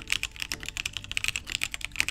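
Someone types quickly on a cheap 30-euro Amazon keyboard, producing a dense, close run of bright, clacky key strikes at an uneven rhythm with no pauses.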